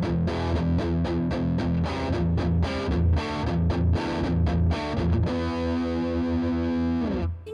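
Distorted electric guitar through the gain channel of a Paul Reed Smith amp with the gain bright switch off: chugging palm-muted chords in a tight, driving rhythm, then a sustained ringing chord that fades at the end.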